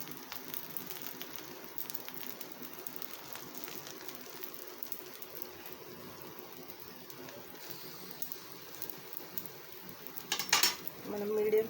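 Oligalu, a traditional Anantapur sweet flatbread, fries in oil in a pan over a medium flame, giving a steady soft crackle and sizzle, with louder clinks of a utensil against the pan near the end.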